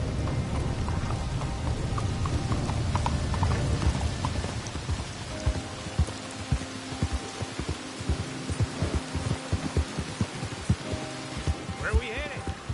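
Horse hooves clop in Red Dead Redemption, a steady run of hoofbeats under continuous rain-like noise, and the rhythm grows clearer toward the end.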